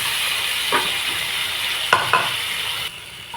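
Boiled potatoes sizzle steadily as they fry in hot oil, with a few distinct scraping stirs of a spoon against the pan rising above the constant hiss.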